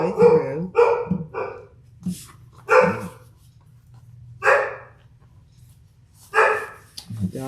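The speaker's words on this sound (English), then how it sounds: "The dogs are barking." Dogs bark in short separate bursts, fairly close, over a steady low hum in a quiet room, with pauses of a second or more between the barks.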